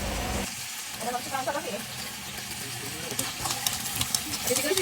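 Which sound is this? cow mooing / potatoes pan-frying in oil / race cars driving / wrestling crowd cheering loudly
potatoes pan-frying in oil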